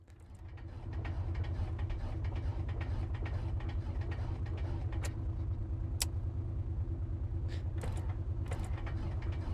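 Simulated piston engine of an Aerostar 600 aircraft in Microsoft Flight Simulator 2024 running again after being flooded, a steady close drone with a rapid mechanical pulse that builds up over the first second and then holds evenly.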